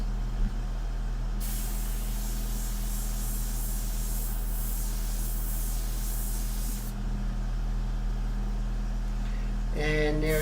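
India ink is sprayed from an airbrush onto a portrait painting, giving a steady hiss for about five seconds over a constant low compressor drone.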